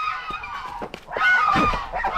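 Loud honking and quacking calls from crested blue ducks, including a drake, on a farm, several overlapping bursts rising to a raucous peak near the end.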